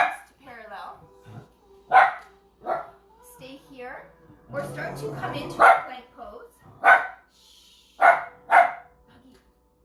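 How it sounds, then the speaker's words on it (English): Dogs bark in repeated sharp bursts, with yips and a whimper, during a power yoga class, some barks near and loud, mixed with an instructor talking. "I have to cope with dogs here."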